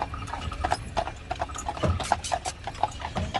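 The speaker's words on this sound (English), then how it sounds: "you can see a team of horses getting hitched up to a carriage to the right" Carriage horses' hooves clip-clop in a quick, uneven rhythm on a hard surface on Mackinac Island, Michigan, fairly close, with a faint murmur of background activity.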